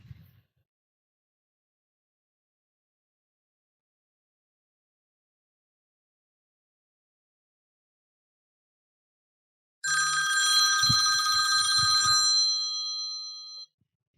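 A telephone ringing after a voice-dialed call, a single burst of bright electronic ringing lasting about three seconds after a long silence, heard alone and fairly close.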